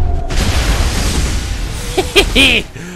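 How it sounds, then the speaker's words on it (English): Deep booming video game explosions from Mass Effect rumble under a dense noisy wash, followed by sharper bursts and a few brief voiced exclamations near the end. "some explosions are awesome"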